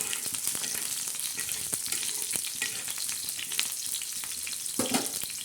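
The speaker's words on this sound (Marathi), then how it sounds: "हे बघा आता आपला कांदा मस्त लाल गरज होत आहे" Onion frying until red-browned in a pan makes a continuous crackling sizzle, with scattered sharp pops and clicks and a brief louder scrape or stir near the end; no one speaks.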